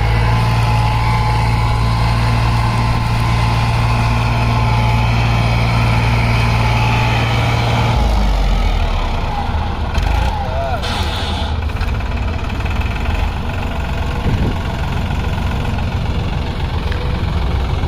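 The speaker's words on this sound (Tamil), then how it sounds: "கரும்பு வெட்டுற மிஷின் பார்த்தீங்கன்னா கரும்பு வெட்டிட்டு இருக்குங்க" A heavy sugarcane harvesting machine's engine drones steadily nearby as it cuts cane, its low rumble shifting in tone partway through, with scattered knocks and rattles.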